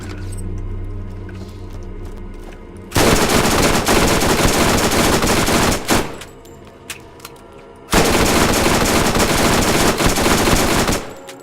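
Bursts of automatic fire from a gun with a low-quality stock in the shooter game Borderlands, two long loud sustained volleys separated by a short gap and a quieter stretch, no talk.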